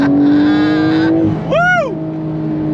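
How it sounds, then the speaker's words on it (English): A Porsche 992 911 Carrera S with twin turbos launches hard in Sport Plus mode, engine note rising steadily then a quick upshift and another sweeping climb, loud and close from inside the car. "we're gonna start off using the launch control"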